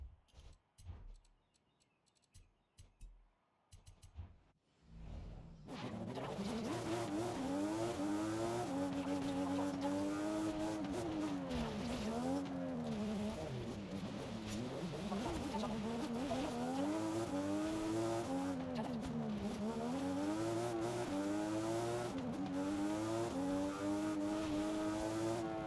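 A Toyota Supra driving in the video game Forza Horizon 5, its engine droning loudly and continuously with rising and falling pitch as it accelerates and shifts, after a few seconds of sparse clicks and quiet.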